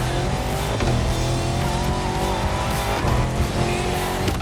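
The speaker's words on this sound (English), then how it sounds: "Now going through a series of curves on a downhill slope. It's a slippery ride, but my old Defender is holding up well." An old Land Rover Defender with a V8 in The Crew Motorfest, its engine droning continuously as it slides downhill through slippery curves, with faint tire scrubbing and skids.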